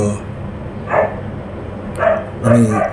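A neighbor's dog barks a few times at a distance, short bursts spaced out across a few seconds, with a person talking nearby.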